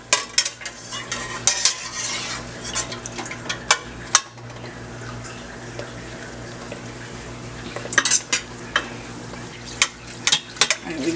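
Fried bakes sizzle in hot oil in a pan, with repeated sharp scrapes and clinks of a metal flipper turning the dough, close and fairly loud against a constant frying hiss.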